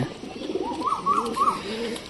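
Pigeons cooing inside a loft, a soft, close, rolling coo repeated three times in quick succession over a quiet background.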